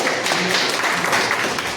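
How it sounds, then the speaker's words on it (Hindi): An audience at a Rajasthani community gathering in Riyadh applauding an honoured guest: loud, dense clapping from a large crowd, steady and close, with faint voices mixed in. "आप तमाम लोगों से गुजारिश की एक बार जोरदार तालियों के साथ"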